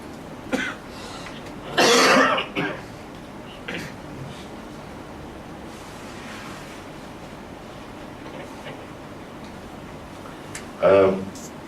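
A couple of short coughs ring out, one burst early and another near the end, over steady breezy outdoor background noise.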